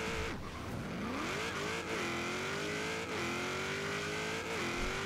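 A tuned Ford De Luxe races in Forza Horizon 3, its engine holding a loud, high, continuous rev with brief dips at each gear shift and no talking over it.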